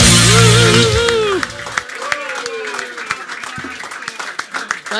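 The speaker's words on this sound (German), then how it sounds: "begrüßen Sie mit einem donnernden Applaus Ihren Moderator" Clapping and crowd noise rise at a talk show evening event in Dinslaken, scattered and moderately loud, while someone talks over it and music plays at the start.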